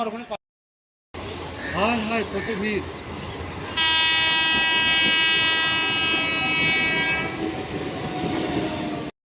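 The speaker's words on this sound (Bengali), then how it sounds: "তো আমাদের ট্রেন চলে এসেছে।" A crowded train rumbles into a station near Bardhaman and sounds a long, loud horn blast amid station noise, with people talking in the background.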